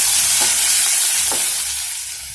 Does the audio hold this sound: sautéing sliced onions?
yes